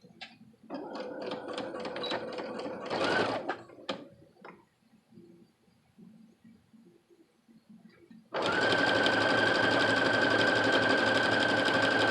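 A domestic sewing machine fitted with a presser foot from a 52-piece kit runs in two stitching bursts: a short steady run with a louder surge, quiet mechanical clicks, then a long, loud continuous whir at close range.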